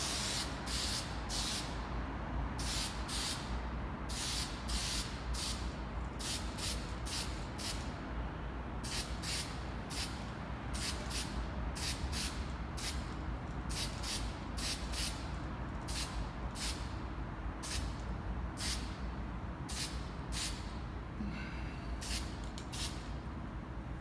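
Spray can laying primer onto a wooden pinewood derby car, a long run of short hissing bursts repeating in quick, fairly regular pulses over a steady background hum.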